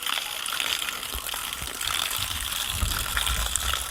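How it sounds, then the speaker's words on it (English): Water rushes through a gravity-fed pipe running downhill, a steady close gush with faint mechanical clicks, growing slightly fuller partway through. "that water pressure should be forcing the water down the pipe, down the hill"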